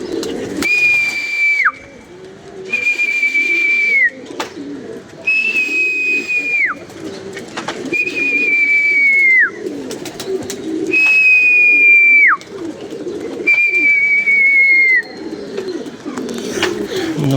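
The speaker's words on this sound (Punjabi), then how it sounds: "ਅਸੀਂ ਆਪਣੇ ਹਿਸਾਬ ਨਾਲ ਰੱਖ ਕੇ ਉਡਾਣਾ ਕਬੂਤਰ" Domestic pigeons kept for pigeon flying coo low and steadily beneath six loud, clear whistled notes. The whistles come at regular intervals and each one falls off at its end.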